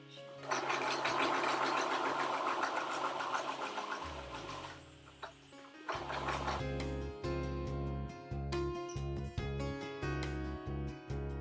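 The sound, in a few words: sewing machine stitching the lining of a satin ball dress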